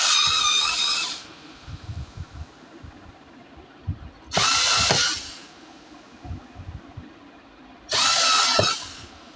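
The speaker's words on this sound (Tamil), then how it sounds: "ஃபுல்லாக எல்லா இடத்துலையும் 4 மூலையிலையும் 4 ஸ்க்ரூ போட்டு டைட் பண்ணணும்." A power drill drives screws into an electrical switchbox in three loud, high-pitched bursts of about a second each. Quieter handling clicks and thumps fill the gaps between the bursts.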